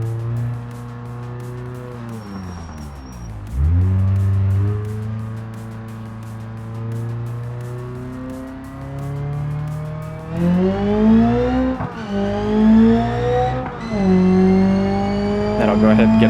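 A race car engine in a racing video game, viewed from first person, drones steadily with shifting pitch, dipping and climbing through gear changes, loud and continuous with rising revs toward the end.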